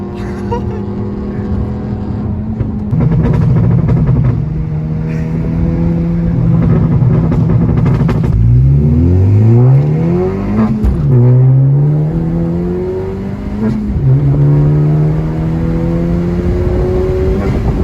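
Tuned 2018 Honda Civic Si and a Z car accelerating in a race, engines droning loud and near with rising pitch through gears, then sharp sweeping rev climbs and drops as the cars pull, with a brief shout.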